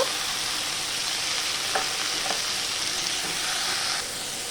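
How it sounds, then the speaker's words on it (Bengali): Potato slices frying in a pan give a constant, close sizzling hiss with a few faint stirring clicks, and the sizzle softens slightly near the end. "এবার আমি আলুটা ভেজে নেব।"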